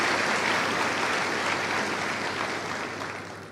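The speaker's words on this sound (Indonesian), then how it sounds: "Kita berikan aplaus untuk kita semua di sini." Sustained audience applause fills the room at a campus gathering, a dense, loud wash of clapping from many hands that holds steady and slowly eases toward the end, with no talking over it.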